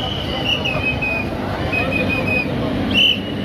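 Train at a station as passengers board, a rumbling platform din with brief high metallic squeals or whistles recurring, the sharpest near the end.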